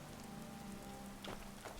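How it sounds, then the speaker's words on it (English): Steady rain patters on surfaces in the video game Skyrim, a soft, continuous wash with a low hum underneath and a couple of brief brighter splashes, quiet and without speech. "It's raining."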